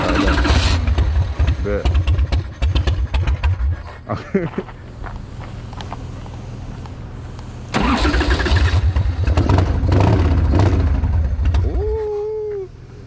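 A chopper motorcycle engine cranking and firing up, loud throbbing bursts of revving that cut out and start again, heard up close with people talking around it.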